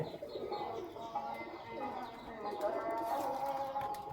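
Red pigeons coo at a small backyard pigeon farm, soft throaty rolling calls repeating close by, with a person talking faintly in the background.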